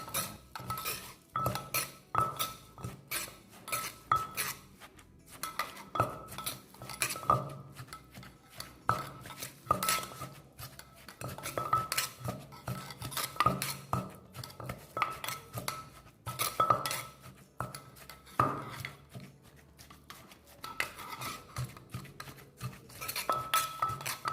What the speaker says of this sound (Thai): นำหมูลงไปโขลกรวมกับเครื่องต่างๆเลยนะคะ